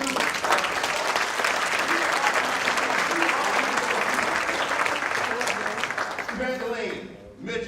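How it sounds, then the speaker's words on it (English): An audience at an HBCU pre-law event claps for students in a sustained burst of loud, dense applause that fades out at the end. "So anybody that's in this room deserves a round of applause"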